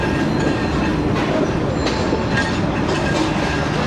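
Train pulling into Lahore Junction on a Shah Latif/Karak rail journey from Mirpur Khas, two hours late, steady close rumble of rolling railcars with faint rhythmic wheel clatter and occasional squeal, no voices.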